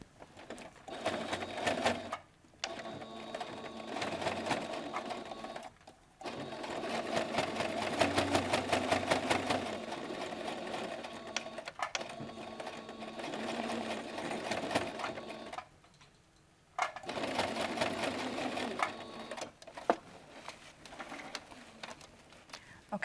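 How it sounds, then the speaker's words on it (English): Sewing machine stitching repeatedly over bag straps, running in long rhythmic bursts of rapid needle clatter separated by short pauses for reversing and reinforcing the seam. "now I'm just going to sew a couple of times over this"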